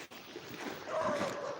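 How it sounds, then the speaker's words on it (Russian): A dog barking somewhere down a foggy street in Yakutsk at minus 45, a faint, distant yelping bark over steady outdoor hum, with no talk over it. "собака лает. Слышно, да, собака? На кого-то лает."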